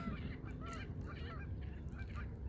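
Canada geese honk repeatedly in a busy, overlapping series of calls, fairly close, over a constant low outdoor rumble at the Henderson Bird Viewing Preserve, Nevada.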